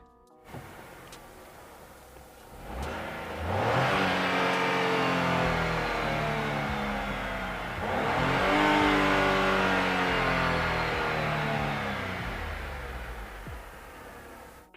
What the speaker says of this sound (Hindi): कि जब मैं गाड़ी को स्टार्ट करता हूँ तो ये चीज़ कितनी हार्शनेस इसके अंदर फील होती है।